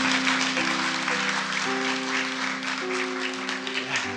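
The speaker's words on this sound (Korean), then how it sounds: "축복의 박수 부탁하겠습니다" A church congregation applauds as a blessing during a Sunday worship service, a dense, sustained wash of clapping with a held organ or keyboard chord sounding beneath it.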